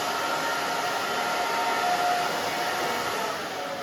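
A hair dryer blows steadily on hair being styled in a salon, a close, continuous whooshing motor hum that stays loud and even throughout with no talk.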